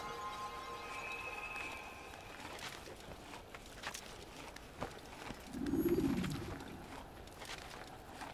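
A pigeon coos softly for a moment in Assassin's Creed, a low brief burst amid quiet game ambience with faint footsteps and clicks.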